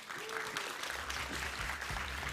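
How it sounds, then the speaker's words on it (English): Audience applause at a startup summit talk, steady clapping from a crowd filling the hall, sustained and fairly even throughout, with a low rumble underneath. "Big round of applause for Christina."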